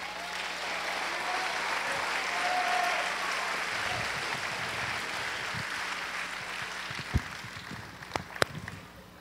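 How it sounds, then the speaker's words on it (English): Audience at a school homecoming event applauds a senior captain called out on stage, sustained crowd clapping over a low background hum, ending with a few louder, closer claps. "Give him a round of applause."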